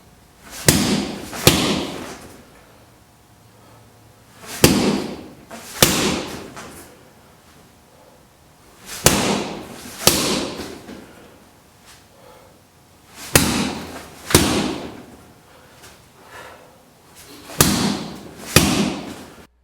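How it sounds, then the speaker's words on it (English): A kubaton or stick strikes a body opponent bag in repeated pairs of sharp, loud thwacks, separated by short pauses across the whole stretch, with no talking over them. "you can also use weapons like the kubaton or stick. In this video footage, Russ works his angle 1 and 2 on the body opponent bag"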